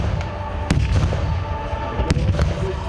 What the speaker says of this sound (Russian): Реконструкция началась с разорвавшей мирную тишину суровым грохотом стрельбы